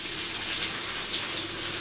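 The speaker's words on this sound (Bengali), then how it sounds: "সামান্য একটু জল দেবো" A little water poured into cooking chana paneer masala spices, a brief soft splashing gush, close and quiet, alone.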